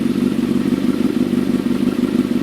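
Motorcycle engine idling steadily during a charging system test, a close, even low throb with a constant pulsing rhythm and no revving.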